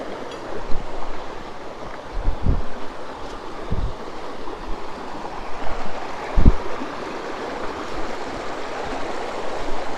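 Steady broadband rush of a river in Saint Lucia running continuously, with a few low thumps and splashes scattered through.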